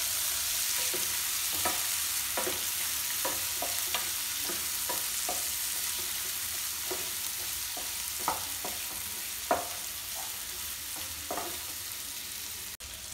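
Chopped onions sizzle steadily in a pan for an Odia-style egg curry, with soft scraping strokes of a spoon stirring them at irregular intervals throughout.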